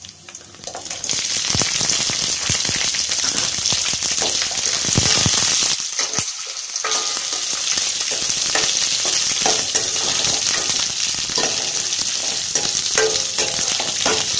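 Bajji chillies sauté in a hot pan with a continuous close sizzle and occasional stirring scrapes, briefly dipping around the middle before the frying carries on steadily.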